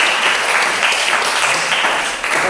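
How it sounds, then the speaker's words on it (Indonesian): A room full of people applauds, a dense, steady clatter of clapping that carries on for a couple of seconds. "tepuk tangan dulu buat kelompok 4"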